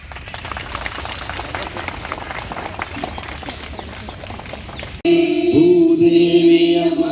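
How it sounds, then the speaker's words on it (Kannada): Students at a school Kannada Rajyotsava celebration clap together in a dense, steady burst for about five seconds, then the applause cuts off abruptly and a loud sung song begins. "ಮತ್ತೊಂದು ಸರಿ ಮಾಡಿ, ಜೋರಾಗಿ ಬರ್ಬೇಕು ಚಪ್ಪಾಳೆ"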